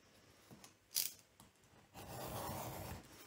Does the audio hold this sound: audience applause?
no